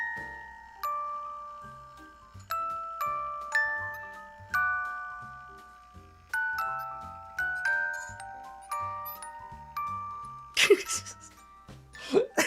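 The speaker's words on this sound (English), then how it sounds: "I have a music box. Listen to my music box" A music box from the game Death Stranding plays a slow, tinkling melody of plucked metallic notes, ending with a brief burst of noise near the end.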